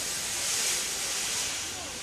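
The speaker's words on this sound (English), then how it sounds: "He blew his whistle and wheezed lots of steam." Steam engine letting off a broad, steady hiss of steam, loud and continuous for about two seconds with no clear whistle tone.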